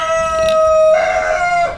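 A rooster crows once outdoors in strong wind near a dock, a long steady call lasting most of the clip, loud and close with wind noise beneath.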